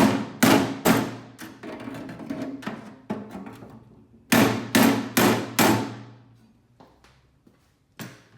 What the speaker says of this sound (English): beating on sheet metal with a hammer